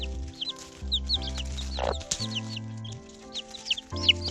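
Chicks, black ones among them, peep and cheep rapidly and close up while fleeing a hen that is trying to take their food, with low clucking underneath and scattered scuffles.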